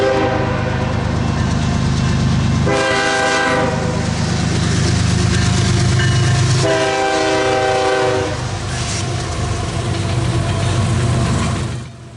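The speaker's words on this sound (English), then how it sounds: "Immediately after 401, another westbound came through. This was a loaded coal train," A loaded westbound coal train passes close by in the mountains, a loud steady rumble of rolling cars with repeated blasts of its horn.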